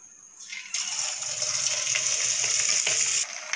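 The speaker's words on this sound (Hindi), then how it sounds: "अब इनको फ्राई कर लेंगे हम।" Bird nest bites dropped into hot oil on a gas stove set off a loud, steady sizzle that jumps up suddenly and holds strong throughout, with no talking.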